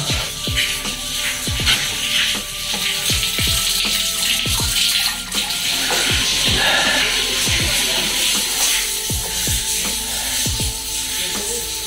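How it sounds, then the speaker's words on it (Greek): Spring water runs from the rock at a holy shrine's blessed spring in Corfu, a steady splashing flow heard close and continuous, with a faint hiss throughout and no talking. "κατεβαίνεις κάτω το βράχο και είναι μια πηγή που τρέχει νερό"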